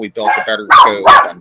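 Dogs bark in two loud, close bursts right after a person speaks, short and sharp back to back.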